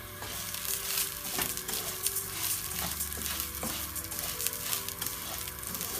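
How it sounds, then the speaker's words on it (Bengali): Rice fries in about a tablespoon of mustard oil for mutton tehari, giving a steady close sizzle. Repeated scraping strokes of a spoon against the pan run under the sizzle without a pause. "তাতে প্রায় এক টেবিল চামচ সরিষার তেল দিয়ে আমি চালটুকু ভাজবো"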